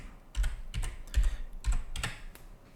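Computer keyboard keys clack in short irregular bursts of about seven taps, close and moderately loud, with quiet pauses between them.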